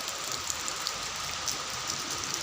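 Steady rain just beginning to fall, a soft continuous hiss of drops on surfaces with scattered brighter patters, fairly even and close throughout with no voices.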